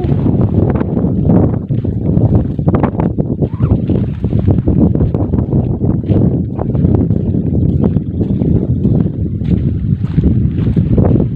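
Strong typhoon wind buffets the microphone with loud, gusting low rumbles and flutters that continue unbroken for over ten seconds, with no voices heard.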